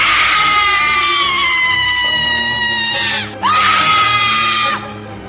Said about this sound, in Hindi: इतना कहकर वो जोर जोर से नीरज के कानों में चीखने चिल्लाने लगी।